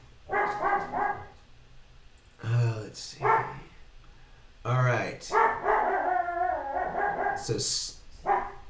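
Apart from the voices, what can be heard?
dog barking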